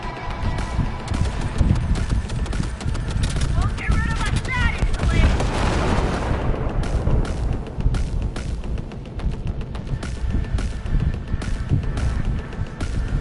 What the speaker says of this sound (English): I hear somebody shooting though